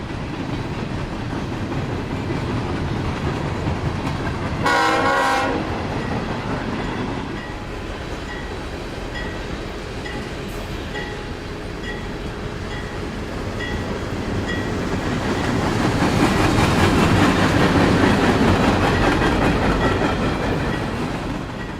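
A CSX freight train rolls past on the tracks in Northwest Indiana, a steady rumble with rhythmic wheel clicks and a brief sharp horn-like burst early on, swelling louder as cars pass close.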